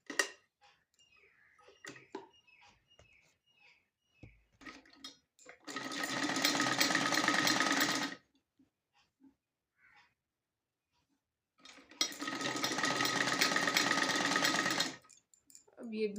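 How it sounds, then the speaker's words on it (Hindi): Two separate bursts of a sewing machine stitching an old sweater, each a few seconds of loud, even mechanical whirring close to the mic, with soft handling clicks and near silence in between. "अब ये बीच वाला जो हिस्सा है उसको मशीन को बगैर उठाए सिलाई करनी है।"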